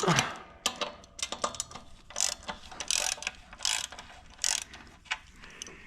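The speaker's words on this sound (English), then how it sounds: "I'm going to grab a gear wrench." Gear wrench ratcheting a bolt while fitting an intercooler on a John Deere 4840 tractor engine overhaul: irregular, fairly quiet close clicks in short bursts and single strokes, with light metallic ticks between.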